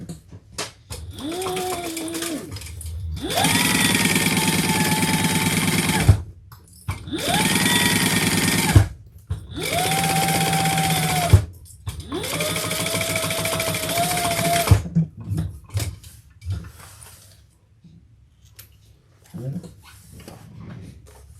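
A sewing machine stitches between the notches of a bag in four steady, loud runs separated by brief stops, with quiet handling sounds before and after.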